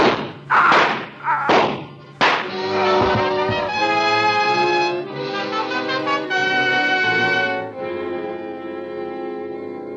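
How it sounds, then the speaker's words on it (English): Four revolver shots in a 1946 radio suspense drama, heard as a quick run of heavy, muffled bangs close together, followed at once by a loud, sustained swell of orchestral music. "Four bullets I pumped into him."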